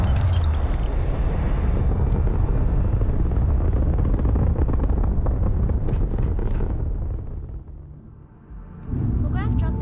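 Spaceship lifting off in the video game Starfield, a loud roaring rumble that holds steady, eases off, then surges again at the end.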